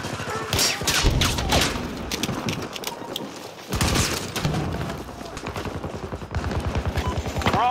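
Dense gunfire during a Battlefield 2042 team deathmatch, overlapping automatic bursts and single shots, loud and close throughout with explosions mixed in and brief shouting under it.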